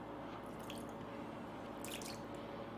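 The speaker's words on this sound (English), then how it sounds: "You see water just running off the shoe like crazy." Water runs and drips off a waterproofed shoe, a faint, steady close trickle with a few brighter splashy drips, heard alone without speech.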